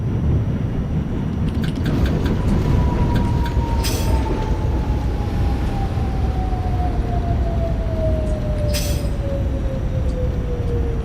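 An R68A subway train on a W local run from Astoria-Ditmars Blvd in the OpenBVE simulator, with a steady loud rumble of running, a slowly falling motor whine, and a couple of brief clanks.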